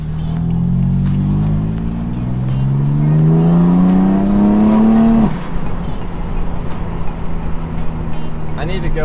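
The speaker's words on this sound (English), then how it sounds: "Popping out the back of the exhaust. That's probably a combo of the intake and the catless downpipes." Revving BMW M4 engine fitted with a VRSF intake and catless downpipes, its pitch climbing steadily for about five seconds before cutting off into sharp exhaust pops and crackles, loud and close.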